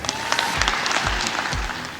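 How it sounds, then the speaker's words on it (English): Democrats applaud in the House chamber during the election of the Speaker, a brief burst of dense clapping from a large crowd. "the Democrats all clapped at what was an inherently obnoxious display"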